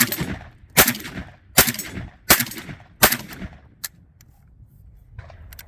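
A JTS M12AK-T1 AK-style shotgun fires at an outdoor range, four loud, sharp blasts about three-quarters of a second apart, each followed by a brief ringing decay, then a smaller click and quiet handling noise.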